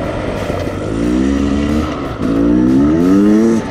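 A Beta 300 Xtrainer two-stroke enduro motorcycle engine revs hard up close, pitch climbing in two rising surges with a brief dip between as the bike lifts its front wheel.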